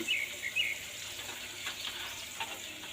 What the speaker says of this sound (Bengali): এদিকে অর্ধেকটা মাছ আমি ভাজা করে নিচ্ছি